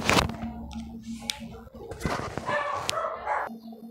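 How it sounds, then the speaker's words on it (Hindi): Household dogs barking indoors, with several sharp barks and yips scattered across the moment, mixed in with a person's voice and room noise. "तो क्या वो घर के डॉगी भौंक रहे थे"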